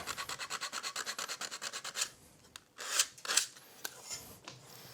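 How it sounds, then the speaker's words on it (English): Wood is sanded by hand along the grain in gentle back-and-forth rasping strokes, a quick regular series of soft scrapes followed by a few slower, sharper passes, close and fairly quiet. "just blend that back in with just a gentle sanding following the grain"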